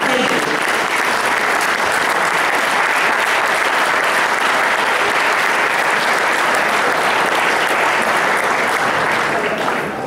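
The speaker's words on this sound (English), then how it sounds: "a big round of applause for this event." Sustained, loud applause from the audience at a hackathon presentation event, a dense, even wash of clapping that holds steady from start to finish with no pauses.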